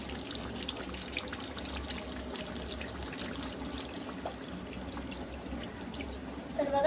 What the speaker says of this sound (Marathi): आता आपण याच्यामध्ये आधी टाकू थोडंसं पाणी